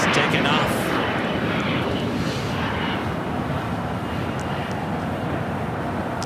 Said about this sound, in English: The Sun Falcon 900EX taking off.